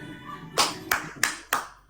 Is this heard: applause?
yes